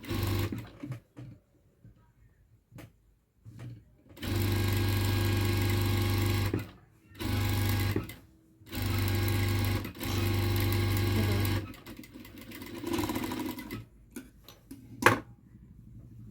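A sewing machine stitches a puffy blouse sleeve in several loud, steady runs of a few seconds each, separated by short pauses and small handling clicks.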